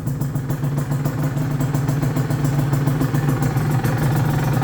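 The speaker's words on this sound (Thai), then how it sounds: "ออฟรันแท้ฟังเสียง ดิ ไม่รู้ว่าสตาร์ติดป่ะ โอ้ ทีเดียวติดเลย" A Honda NSR 150SP two-stroke motorcycle engine fitted with an original exhaust runs steadily up close, producing a loud, continuous buzzing exhaust note with a rapid, even pulse and no voices.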